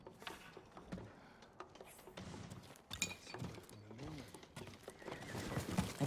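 Hooves clop and a horse whinnies amid clattering sound effects in the video game Ghost of Tsushima Director's Cut, with a voice speaking over the scene.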